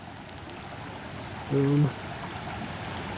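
Creek water flows in a steady, close wash at night, continuous under the whole stretch, with a brief spoken word partway through.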